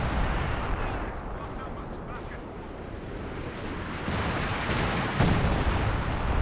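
Priest self-propelled artillery firing in Company of Heroes 2, a dense continuous barrage of booming blasts and rumbling explosions, with a sharp louder burst near the end and a voice talking over it.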